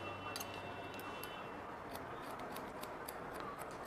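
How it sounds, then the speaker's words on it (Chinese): Scissors snip at the front fringe while cutting hair bangs to length, a steady run of light, quick metallic cuts close by over a soft constant hiss, with no talking. "在前面呢去修剪刘海"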